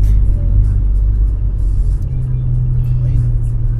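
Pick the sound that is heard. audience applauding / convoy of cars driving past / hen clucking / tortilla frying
convoy of cars driving past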